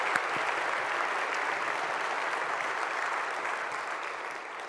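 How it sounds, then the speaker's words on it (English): Steady, dense applause from a conference audience at a logistics summit, thanking a transportation panel; continuous clapping throughout, fading slightly toward the end. "Let's have another round of applause for our transportation panel."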